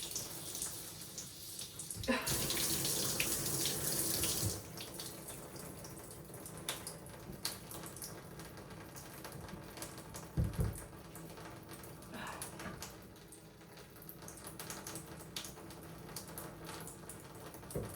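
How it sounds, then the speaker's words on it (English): Water rushing and splashing steadily, with a louder gush early on and a few knocks and clunks. "a little bit of water's coming out now"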